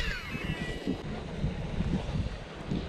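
Wind gusting along the bank of a large pond, a steady low rumbling buffet against the microphone that swells and eases throughout, with no voices.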